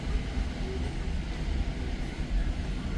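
Steady low rumble of a train rolling past, continuous and fairly loud throughout with no voices.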